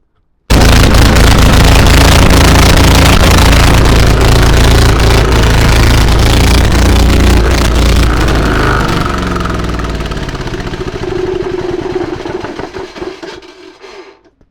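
A bargain new 186F single-cylinder diesel engine fires up abruptly and runs loud and close with a steady rapid knocking chug, then gradually slows and winds down to a stop.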